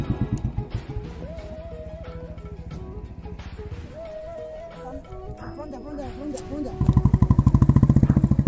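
Three motorbikes cross a rough stretch on the road to Longding in Arunachal Pradesh, their engines putting and revving unevenly nearby before surging louder at the end while people talk over them.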